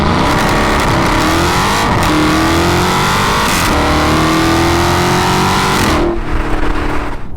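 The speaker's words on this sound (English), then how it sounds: "this has a great V8 sound" A 2019 widebody Dodge Challenger R/T Scat Pack V8 revs hard and loud up close, its deep rumble rising and falling across several throttle blips before cutting off sharply near the end.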